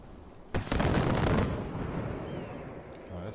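Mortar shell exploding nearby in Far Cry 4, a heavy booming blast that rumbles and slowly fades, with faint sounds trailing after.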